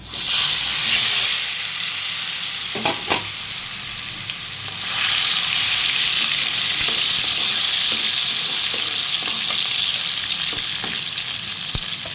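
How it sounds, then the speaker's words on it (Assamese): Potatoes sizzle and crackle steadily in hot oil, a continuous frying hiss with occasional pops, close and fairly loud. "আলুখিনি ফ্ৰাই হ'বলৈ দিম।"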